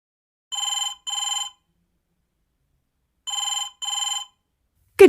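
Telephone ringing in an IELTS listening test recording: two pairs of electronic double rings separated by a silent pause, clean and close, with no voices.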